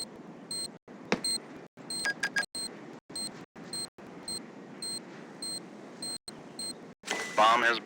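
A planted bomb in a counter-terrorist shooter game beeps in a steady, evenly spaced series of short, sharp tones over faint background game noise, ending in a louder burst of action.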